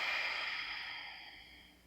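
A single soft exhalation from Kapalabhati breathing practice, a breathy airy rush that starts strongest and fades gradually over about two seconds, close and quiet.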